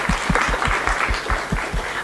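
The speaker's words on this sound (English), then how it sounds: "Really loud clap." Loud applause from a conference audience, dense and sustained through the whole two seconds, with a few sharp, heavy claps standing out at a steady rhythm over the crowd's wash of clapping.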